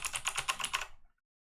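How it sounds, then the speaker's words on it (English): A loud computer keyboard clatters under fast, close typing, a dense run of sharp keystrokes lasting about a second before cutting off to silence. "The loud ass keyboard"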